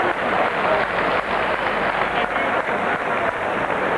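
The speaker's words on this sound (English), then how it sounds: "Listen to that applause." A crowd at a 1996 snooker finals day applauds, a dense and continuous wash of clapping from many people in the hall that holds steady for several seconds.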